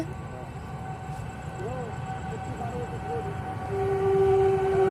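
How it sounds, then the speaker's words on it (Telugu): A train rumbles past near farm fields, its steady low roar building toward the end, with a long horn-like tone rising near the close. "ట్రైన్ వస్తుంది"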